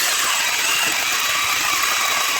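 A Milwaukee M12 Hatchet cordless chainsaw runs steadily and loudly up close while cutting a branch, giving a continuous high whine with no pauses.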